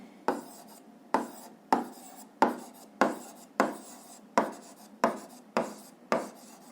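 Pen strokes on paper while a physics formula is written out, about eleven regular scratchy strokes spaced roughly half a second apart, close and fairly quiet, with no talking.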